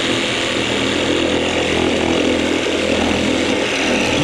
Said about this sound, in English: Grab the Sawzall